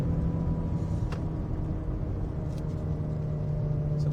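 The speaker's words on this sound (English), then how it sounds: "You can hear that the engine hangs on to its revs." The engine of a 2025 Toyota Crown Signia wagon hums at steady revs while driving, giving a constant low drone under faint road noise with no voices.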